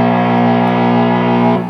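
Gibson Les Paul Tribute 2018 electric guitar played through overdrive, a loud sustained distorted chord ringing steadily for over a second and a half before cutting off abruptly.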